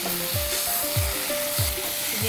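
Ground tomato and green chilli paste is stirred in a hot pan, giving a loud, steady sizzle with three or four regular scraping strokes of the spoon.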